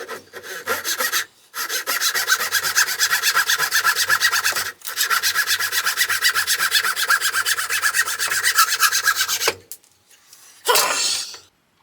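Hand sawing through scrap teak for a veneered food tray, a steady rapid back-and-forth rasp in long continuous runs broken by brief pauses, close and loud, with a short final burst.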